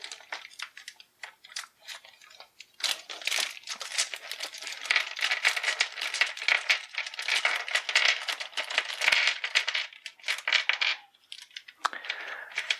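Handfuls of plastic game dice from a Teenage Mutant Ninja Turtles board game set being handled, sorted and rattled, dense clicking and clattering bursts up close with brief pauses, no voices.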